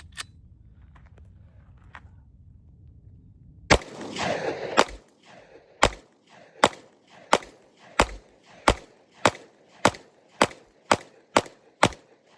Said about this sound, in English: let's go ahead and shoot our first mag